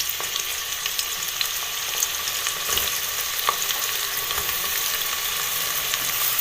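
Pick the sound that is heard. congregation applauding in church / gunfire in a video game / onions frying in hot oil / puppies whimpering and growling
onions frying in hot oil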